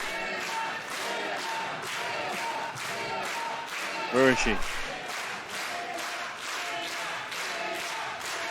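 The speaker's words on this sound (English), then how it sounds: "Crowd is chanting for her." Wrestling crowd at Korakuen Hall chanting in a steady rhythmic pulse throughout, with clapping mixed in and a voice briefly speaking over it partway through.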